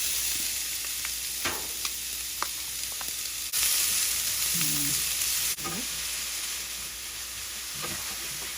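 Chopped onion and browned garlic sizzle steadily in a hot frying pan, a close, continuous crackle with brief louder bursts as the onion goes in, plus a few light stirring clinks.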